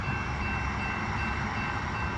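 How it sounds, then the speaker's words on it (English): A SEPTA Regional Rail train rushes through the Lower State Road crossing, giving a loud, steady rumble of wheels and cars that runs through the whole span with no break and no voices. "So right now coming through is SEPTA Regional Rail Line number 2520."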